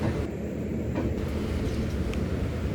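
The Yesvantpur to Karwar Express rolls along the rails with a steady, broad rumble and faint rattling, continuous and unbroken, with no voices.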